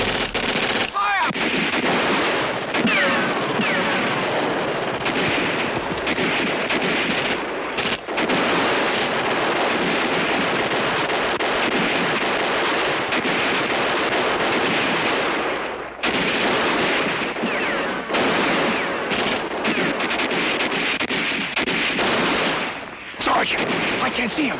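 War-movie battle gunfire roars almost without pause, dense machine-gun bursts and heavy blasts loud and close, broken only by a few brief gaps.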